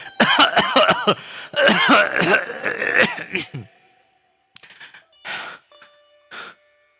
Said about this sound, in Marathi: स्वामींना जोरात खोकल्याची ढास आली